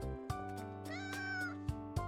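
Cats in a video game give a clear, drawn-out meow with a rising and falling pitch. A few short thumps and clicks sound before and after it, and no one talks.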